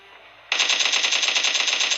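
Rapid automatic gunfire from a shooting video game, a loud sustained burst that starts abruptly after a half-second of quiet background and rattles on steadily to the end.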